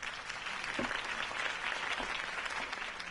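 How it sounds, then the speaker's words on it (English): A crowd applauds after a campaign speech, a steady wash of clapping at moderate distance that continues evenly throughout, with no voices heard. "could have heard that applause"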